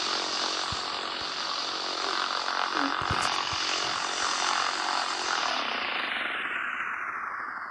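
Small propeller airplane engine in a video game drones steadily and loudly throughout, a constant buzzing hum with no talk over it.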